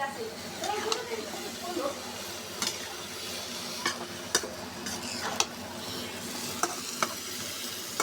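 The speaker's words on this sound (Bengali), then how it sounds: "বেগুন একটু কষিয়ে নিই তারপর মাছগুলো দিয়ে আবার কষিয়ে নেব" Eggplant sautéing in oil in a pan, with a steady sizzle broken by sharp stirring scrapes and spatula knocks at irregular intervals, close by.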